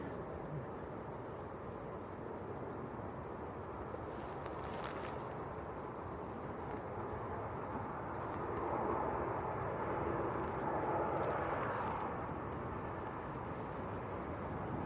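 A TUI Boeing 737 Max airliner on short final approach to Manchester Airport gives a steady, distant jet roar that swells slightly toward the end, under a broad outdoor wash of noise.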